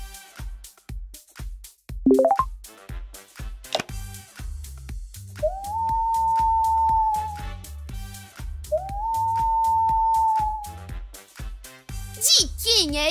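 A cartoon wolf gives two long, steady howls in the middle, each a sustained rising-then-level tone, set within a bright, bouncy children's music track.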